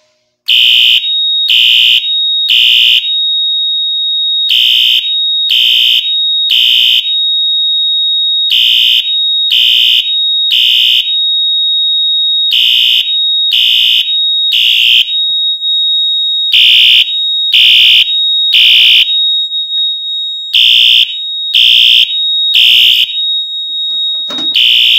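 A fire alarm blares in loud, regular bursts of three high-pitched beeps with short pauses, a temporal pattern repeating steadily throughout.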